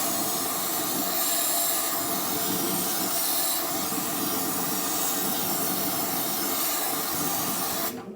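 Fluid Film rust preventive sprayed through a long wand deep inside a stripped Dodge truck cab: a steady, close hiss runs unbroken for about eight seconds and cuts off right at the end.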